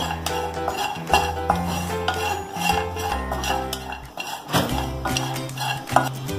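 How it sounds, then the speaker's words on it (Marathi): Dry dates (kharik) roasting in a pan and being stirred, with repeated scraping and clinking of a spoon against metal, close and fairly loud. "आता आपण खारीक पण थोडेसे भाजून घेऊया"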